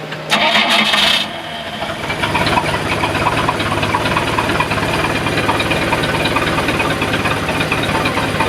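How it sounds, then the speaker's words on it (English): A cold boat engine cranking and catching without choke, a brief loud start followed by a steady, even idle that runs close and constant to the end. "Give it a good pump here. Should start and idle real nice, even cold, without any choke."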